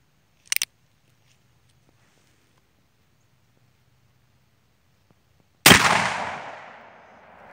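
Ruger Old Army .45 caliber black-powder revolver firing a round ball over a Pyrodex pellet: one loud, sharp blast with a long decaying echo after a brief click, otherwise quiet.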